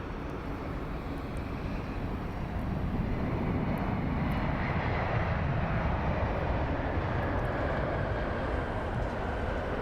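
A United Airlines airliner roars steadily at London Heathrow Airport, a broad, loud jet engine rumble that swells slightly as it passes, with no talk.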